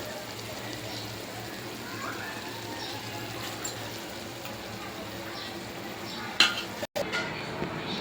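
Koi fish curry with potatoes sizzles gently in a pan while it is stirred, giving low scraping and a sharp clink near the end, with a faint murmur of background noise.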